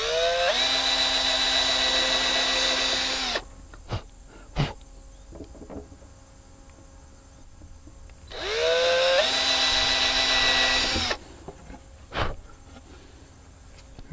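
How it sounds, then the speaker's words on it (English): A 1/8 inch drill bores holes through a sign in two whining bursts of about three seconds each, with a rising pitch at the start of each, separated by quiet handling clicks and knocks. "And I'm just going to use my 1/8 inch drill."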